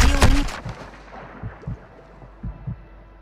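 A single loud gunshot-like boom at the start rings out and decays, followed by scattered soft thuds and low rumbles from a busy Call of Duty: Modern Warfare III game scene.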